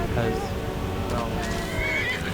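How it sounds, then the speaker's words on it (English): A horse neighs in the game Skyrim amid combat with a skeleton, a whinny mixed with clopping hooves and busy game sound effects, while someone talks over it. "at least the horse is attacking the skeleton"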